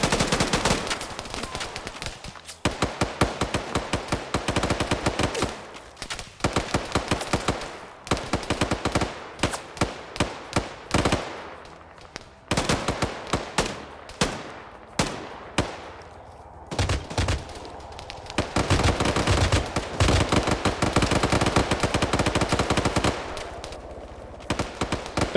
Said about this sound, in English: This beautiful barrage of fire.